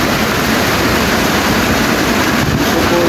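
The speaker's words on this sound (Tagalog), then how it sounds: "Malakas yung ulan." Heavy rain pours down in Bulacan as a dense, steady roar of falling water, loud and close with no pauses, and no voices over it.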